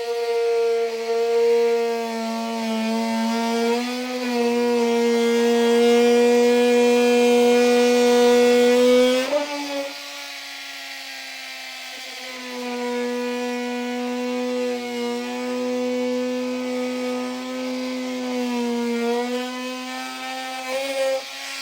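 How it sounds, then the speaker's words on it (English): An oscillating multi-tool trims plastic bumper fascia on a 2024 Chevrolet Trax, making a steady, loud, close buzzing whine that shifts pitch as it cuts and drops briefly in the middle before continuing for over twenty seconds. "I'm just going to use a multi-tool and we'll get this trimmed out."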